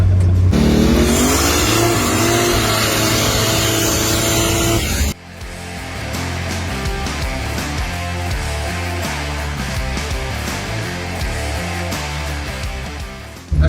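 A 1400 hp Ford Cortina street car with a 4.2-litre stroker Barra engine revs hard and accelerates with a loud, rising roar for about five seconds, then the sound cuts abruptly to rhythmic music.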